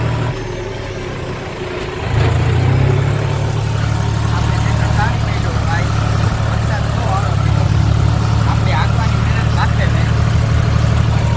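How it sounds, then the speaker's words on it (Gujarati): A large tractor engine idles in a downpour, its low steady rumble kicking in after a brief pause and holding firm beneath rain hiss and someone talking. "આપણે તાણી મેલું ટ્રેક્ટર."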